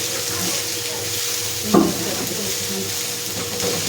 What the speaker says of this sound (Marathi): पण असं पूर्णपणे असं फ्राय करून घ्यायचं